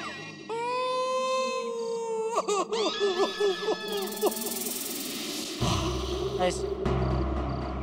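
A person imitates a dog crying with drawn-out whining, wavering howls, then sobbing yelps, close and clear, followed by a brief spoken word and background noise.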